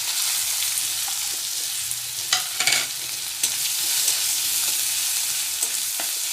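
Sliced onions and panch phoron frying in a pan for bhindi besara, with a loud, steady hiss of hot oil and a few clinks of a stirring spoon partway through.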